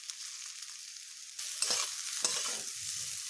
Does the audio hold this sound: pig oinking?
no